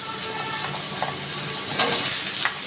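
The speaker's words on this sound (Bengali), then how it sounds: "আমি দিয়ে দিচ্ছি সর্ষের তেল আমি প্রথমে আলুটাই ভেজে নিচ্ছি" Potatoes frying in hot mustard oil in a wok, a steady loud sizzle and hiss with faint stirring scrapes throughout, no voices.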